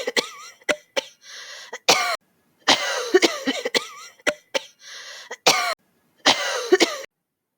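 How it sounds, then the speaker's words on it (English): A series of breathy, forceful huff coughs, short bursts repeated in irregular groups with brief silences between, close and clear. "do a forced exhalation through the mouth or a huff cough"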